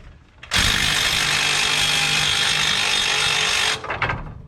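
A power drill or impact tool removes brake bolts on a box truck, a loud close steady whirring burst of about three seconds, then stopping with a brief rattle.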